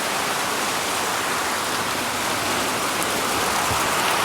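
Heavy rain pours down in a steady, dense hiss that stays close and loud throughout, with no voices over it.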